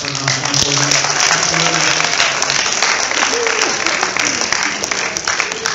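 Loud, sustained applause from a large crowd at a high school after-prom event, thanking the parents, dense continuous clapping with some cheering and voices underneath.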